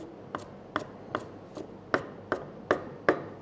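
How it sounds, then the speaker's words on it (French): A knife blade taps down repeatedly on a board to coarsely crush herbs, eight crisp evenly spaced knocks that grow slightly louder, close up with no talk. "concasser, c'est voilà, c'est tapoter avec son couteau"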